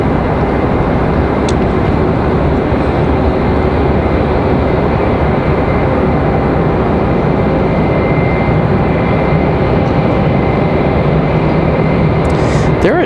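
Endeavor Air jet inbound from JFK on final approach to Raleigh-Durham, a loud steady broadband roar holding throughout, heard from the ground nearby.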